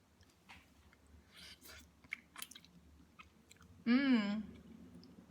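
Someone chews a bite of braised pomfret fish, with quiet, soft mouth sounds and faint clicks close up, followed by a short louder voiced sound near the end.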